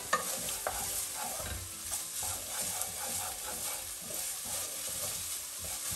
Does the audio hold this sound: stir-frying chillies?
yes